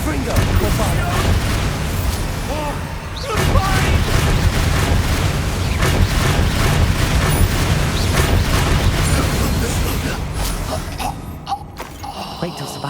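Confringo and Bombarda blasting spells cast in Hogwarts Legacy, loud repeated booms and bursts in a dense combat mix, with voices throughout.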